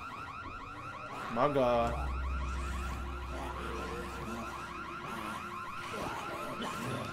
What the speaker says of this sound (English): I didn't know I could shut off the alarm.